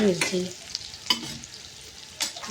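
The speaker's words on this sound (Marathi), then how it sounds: "इकडे कांदा झालेला आहे, छान परतून घ्यायचा" Onion and green chilli frying in a pan, a steady close sizzle punctuated by a few sharp metallic scrapes of a stirring spoon.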